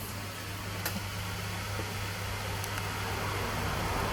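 Cooling fan of an Acer Predator Nitro 5 AN515-54 gaming laptop gives a steady, broadband whooshing hiss with a low hum, heard close up and unchanging, with a couple of faint clicks.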